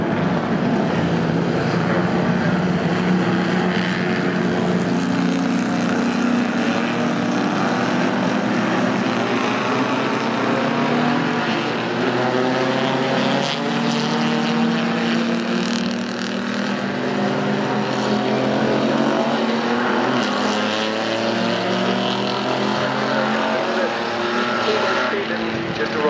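Front-engined Grand Prix race cars from 1948 to 1960, including a Scarab, roar past on a circuit, engine notes rising and falling as they sweep by at a distance under steady crowd and track ambience.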